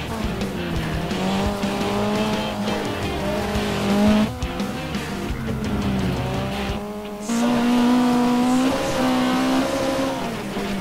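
Rally car from the racing game Dirt 2 driving fast along a rocky Croatian stage, its engine droning steadily with gear shifts and rising revs over about ten seconds, loud and close without any talk.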